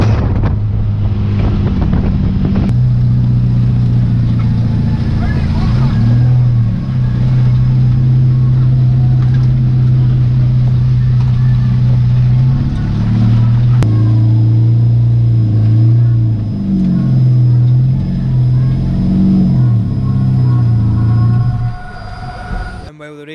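Racing cars, likely karts, drone steadily along a track with a loud, sustained engine tone that rises and falls as they hold speed, continuous for most of the stretch before easing off at the end.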